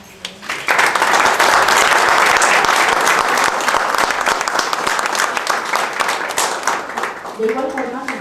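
An audience at a formal academic event on Mexican municipalities breaks into loud, sustained applause for an honored doctor. The clapping is dense and steady, then fades as a voice returns near the end.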